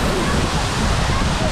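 Sea water sloshes and rushes at a crowded beach in Nice, France, a dense, loud, steady wash of water noise up close.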